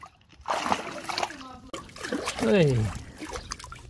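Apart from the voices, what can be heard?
water splashing during child's play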